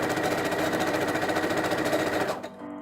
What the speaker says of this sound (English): sew up your seams.